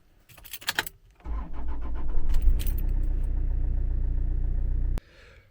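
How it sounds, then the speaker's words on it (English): A Toyota D4D 2.0-litre diesel is started after a jangle of keys, then settles into a steady low idle rumble for about four seconds before cutting off abruptly. "I'm just going to turn the engine on for a few minutes just to warm things up a little bit"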